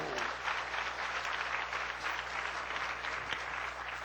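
An indoor audience at a church sermon breaks into steady, sustained applause, a dense even patter of many hands clapping at moderate volume.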